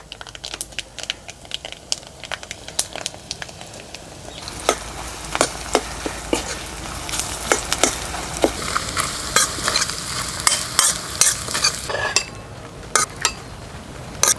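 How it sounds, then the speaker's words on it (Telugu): Curry leaf chutney paste stirred into spicy garlic pickle in a pan, a spoon scraping in quick irregular strokes over a soft sizzle that grows busier after the first few seconds. "కరివేపాకు పచ్చడి ముద్దేసుకుని బాగా కలిపేసుకుందాం"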